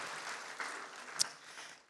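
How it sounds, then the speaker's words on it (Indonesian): A congregation at a church service claps in soft, diffuse applause that stays fairly faint and tapers off within a couple of seconds. "Kita beri tepuk tangan dulu untuk Tuhan Yesus yang luar biasa."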